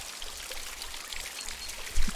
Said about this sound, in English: Oh, this water makes me want to pee.